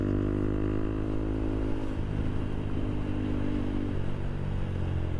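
A motorcycle engine and exhaust drone steadily while riding on a road toward Viralimalai, a loud, close, constant rumble with a low throbbing tone and no audible speech.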